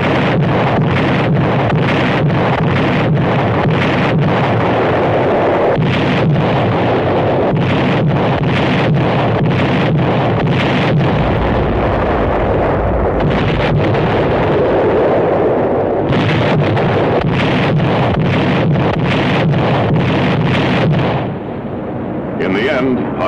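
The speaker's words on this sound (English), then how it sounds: "Heavy and well-directed naval gunfire played an important part in holding back the enemy tide." Heavy naval guns and artillery shell the coast at Anzio in 1944, a long run of loud, rapid booming blasts in close succession, overlaid with buffeting wind noise.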